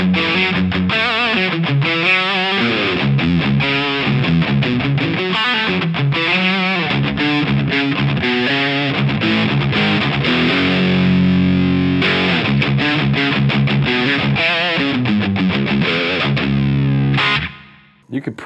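Electric guitar played through a single Boss SD-1 overdrive pedal, a continuous distorted riff with chords and single notes ringing loud and steady, then cut off near the end.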